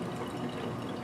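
Methylene chloride is poured from a small beaker into a separatory funnel, giving a soft, steady liquid trickle and splash close by that lasts about a second, with no voices.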